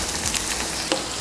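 Crushed garlic and dried red chillies frying in hot oil, a brief, steady, close sizzling hiss with a small crackle.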